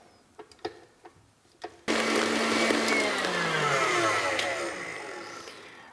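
Electric stand mixer running steadily, mixing baking powder into dry tamale ingredients, loud and continuous after a few knocks and clicks, with the motor pitch slowly dropping.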